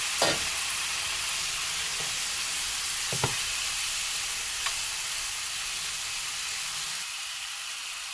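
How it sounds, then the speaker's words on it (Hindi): Two medium chopped tomatoes go into a pan of frying vegetables and spices for a Sindhi paneer lasagna. A steady close sizzle runs throughout, with a few soft scraping stirs. "और मैंने ये 2 मीडियम साइज के चॉप टमाटर लिए हैं तो वो मैं इसमें शामिल कर रही हूँ।"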